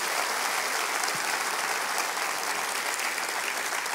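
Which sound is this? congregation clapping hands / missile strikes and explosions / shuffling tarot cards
congregation clapping hands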